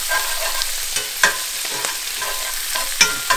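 Roasted red peppers sizzle steadily in a pan over medium heat, with several soft scraping stirs and clinks breaking through the constant frying hiss, close and fairly loud.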